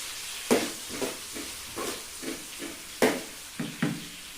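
Sliced onions frying in hot oil, heard as a steady close sizzle broken by a regular series of spatula scrapes and taps roughly every half second.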